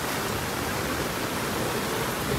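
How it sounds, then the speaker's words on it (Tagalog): Heavy typhoon rain and strong sea waves batter a coastal neighborhood in Naic, Cavite, during Typhoon Paeng, forming a dense, loud, unbroken roar of water with no distinct breaks or voices. "Ang alon at ang ating malakas na ulan."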